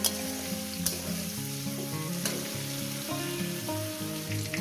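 Pointed gourd and onion fry with a little turmeric in a pan, a steady soft sizzle with occasional stirring clicks beneath a background of music.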